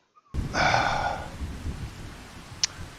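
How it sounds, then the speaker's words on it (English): Rain in Farming Simulator 25 falls steadily after a short silence, a soft hissing wash with a brief swelling rush early on and a sharp tick near the end. "Sounds like rain."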